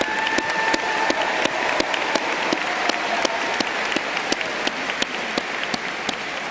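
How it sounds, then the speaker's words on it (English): Audience applause at a university commencement ceremony honoring doctoral graduates: steady, dense clapping from a large crowd, with a few sharper individual claps standing out, sustained throughout at even loudness. "Please join me in extending another round of applause for our doctoral graduates."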